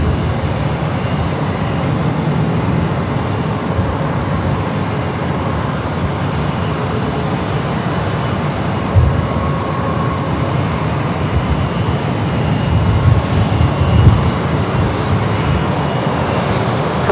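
Steady broadband jet roar of a Swiss airliner at Los Angeles International Airport, a continuous engine rumble holding level throughout with slight swells near the end, no voices.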